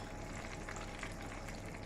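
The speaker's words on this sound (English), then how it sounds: "it's just things frying in a frying pan" Food sizzles and crackles steadily in a pan, a faint, even frying hiss with no talking.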